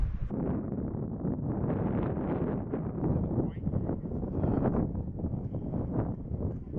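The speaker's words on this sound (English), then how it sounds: "It is so windy up here today" Strong wind on a hiking trail in Sedona roars steadily across the microphone, a continuous low rumbling buffet with gusty swells and no voices.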